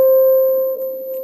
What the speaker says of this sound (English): I like to add some high-end saturation.